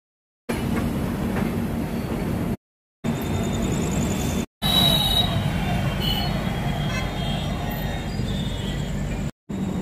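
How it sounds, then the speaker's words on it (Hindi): Doon Express train pulling out of Varanasi Junction, a steady rumbling rail roar with wheel and carriage noise throughout, loud and close, broken by a few brief dropouts. "6:47 पे जो अपनी ट्रेन है वो चली है प्लेटफॉर्म से वाराणसी जंक्शन से"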